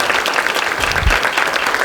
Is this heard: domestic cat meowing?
no